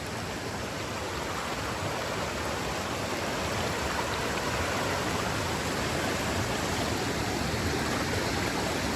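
A stream on the Pinhoti Trail flows strongly at a crossing point, giving a constant, close rushing hiss of moving water with no breaks.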